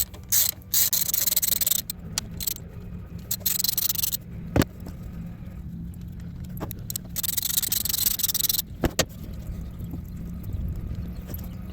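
Ratcheting and scraping of a wrench loosening the three 10 mm screws on a stuck-open thermostat housing of a GM Tahoe, Suburban or Silverado, close up, with bursts of clicking, metallic rubs and a few sharp taps throughout.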